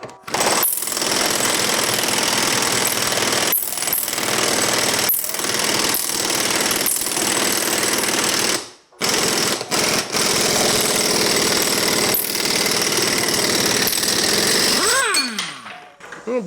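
A VEVOR 1/2-inch pneumatic air impact wrench hammers at a bolt to loosen it, giving loud, sustained rattling bursts close up, cut by a brief pause and ending in a quieter tail with no talk.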